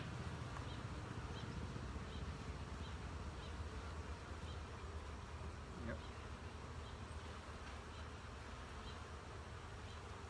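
Steady honey bee buzzing at a nucleus hive fills the whole stretch, a dense low drone close by, with faint outdoor background and no clear talk.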